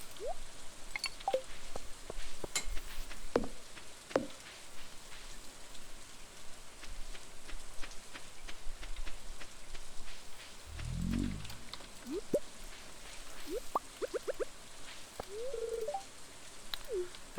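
Steady rain in the video game Stardew Valley patters across a surface, with scattered droplet ticks and a brief low rumble partway through; no voices.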